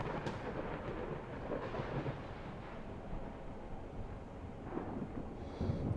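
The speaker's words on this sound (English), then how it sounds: "as the thunder claps" Low rolling thunder rumbles on steadily through a meditation soundscape, a deep continuous roar with swells near the start and end, with no voices.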